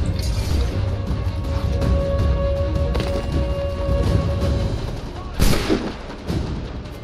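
Gunfire in the video game Assassin's Creed 3: scattered shots and booming blasts over a steady battle din, with a sharp burst of loud reports near the end and a voice talking.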